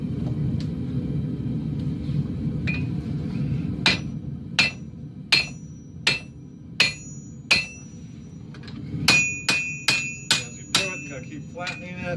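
Ringing hammer blows shape a hand-forged khukuri blade on an anvil, first as spaced, evenly timed strikes, then as a quicker run of close, loud hits over a low background rumble.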